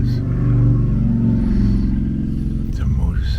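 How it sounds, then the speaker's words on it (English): A motorcycle rumbles past outdoors, a steady engine drone that fades toward the end, heard beneath a nearby voice talking. "It's a motorcycle."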